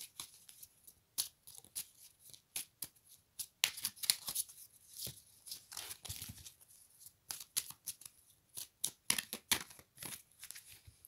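Tarot cards are shuffled and cut by hand: soft, crisp flicks and riffles come in irregular bursts with short pauses, quiet and close, with no voice over them.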